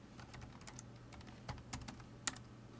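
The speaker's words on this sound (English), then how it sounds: "I'll just type in a number here." Light, quiet taps on a computer keyboard as a number is typed, a handful of sparse, irregular clicks over a faint background hum, with no talking.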